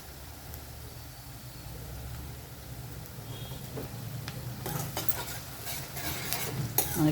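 Onions fry in a pan for ridge gourd and egg curry, a steady close sizzle with a ladle stirring and scraping. The scraping turns busier and louder toward the end.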